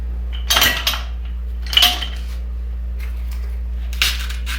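Purple flower stems are snipped and leaves pulled off while a moody plum fall floral centerpiece is arranged. Three crisp, close clipping bursts with short rustles sit over a steady low hum, with no talking.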